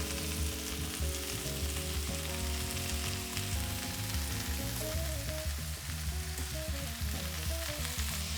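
Ground beef browning in a pot for Texas-style beef chili, a loud, dense, continuous sizzle up close with occasional stirring noises, no talking.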